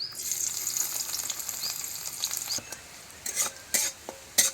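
Chopped onions fry in oil left over from frying fish, giving a bright, close sizzle broken by several sharp clinks and scrapes of stirring.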